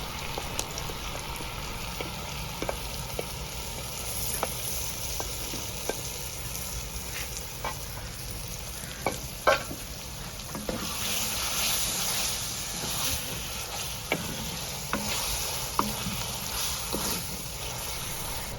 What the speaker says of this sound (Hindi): अब इसमें पास्ता सॉस डालकर हिलाते जाएंगे